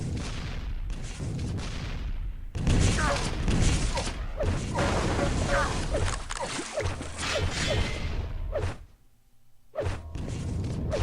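Rocket launcher fire in a Quake duel during a grand-final match: dense, loud bursts of blasts and whooshing impacts follow one another rapidly, with a short lull near the end before the shooting resumes.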